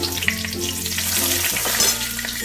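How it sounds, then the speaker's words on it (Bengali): A bay leaf sizzles in hot frying oil after potatoes have been fried, giving a loud, steady crackling hiss close to the pan with stirring noises mixed in. No talking is heard. "এবার দেখো ওই তেলের মধ্যে আর কিন্তু আমি তেল দেবো না এবার একটা তেজপাতা দিয়ে দিলাম"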